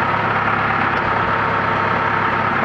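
A tractor runs with its power take-off engaged, producing a loud, constant engine rumble with a pulsing low thrum and broad mechanical noise, close and steady throughout.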